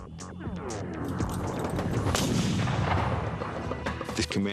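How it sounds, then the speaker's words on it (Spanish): Loud, dense volley of rifle gunfire with booming blasts and crashing impacts, continuous and close, like heavy shooting in an Old West battle. "Los comanches hicieron que disparara su rifle"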